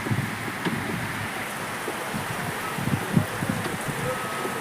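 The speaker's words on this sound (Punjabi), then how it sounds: "ਭਾਈ ਮੀਂਹ ਪਈ ਜਾਂਦਾ" Steady rain hisses and patters throughout, with faint low voices murmuring underneath.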